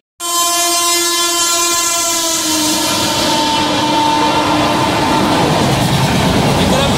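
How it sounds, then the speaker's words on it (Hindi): Purvottar Sampark Kranti express train racing at high speed away from a junction on the Aligarh–New Delhi–Kanpur line; a loud sustained horn blares over a close, steady rushing roar and rattle of wagons throughout. "पूर्वोत्तर संपर्क क्रांति बहुत ही सुंदर।"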